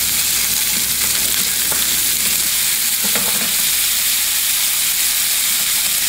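Chicken pieces for adobo frying in a pan, a loud, constant sizzle with occasional stirring clatter close by.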